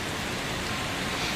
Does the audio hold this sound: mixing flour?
no